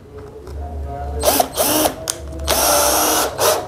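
A 12V cordless drill bores into plywood in several short bursts, loud and close, with a higher-pitched whine in the later runs at speed 2 and brief pauses between.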